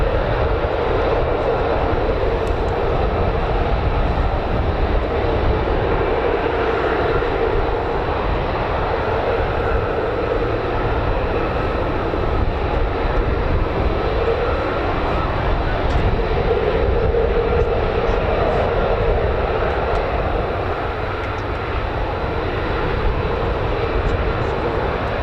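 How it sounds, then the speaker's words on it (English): A Lockheed F-35A fighter jet taxiing at an air base gives a continuous, loud, broad engine roar that holds steady throughout without clear peaks. "we're just waiting for the second F-35. It's just taxiing just now."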